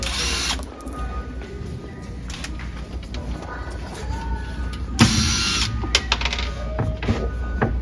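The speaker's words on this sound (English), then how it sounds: "Just take the screws out on the left and the right." A power drill whirs in short bursts while backing screws out of a cabinet, over steady background hum and knocking, close by.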